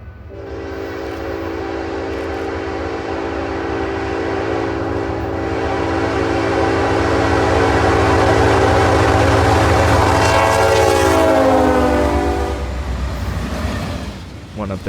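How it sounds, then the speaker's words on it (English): Norfolk Southern locomotive NS 8096 passes close by, sounding its K5HLB air horn in one long, loud, sustained chord over the rumble of the train, the horn bending in pitch near the end as the engine rolls past. "NS 8096 was that it shared the same horn as 8105, a K5 HLB, a rarity among locomotives"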